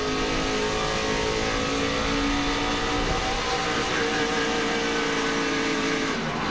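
Race cars accelerate hard in an onboard view of a four-wide short-track battle in Iowa, with a dense, loud, continuous engine roar throughout and no talking.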